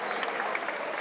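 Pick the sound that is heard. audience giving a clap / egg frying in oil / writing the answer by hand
audience giving a clap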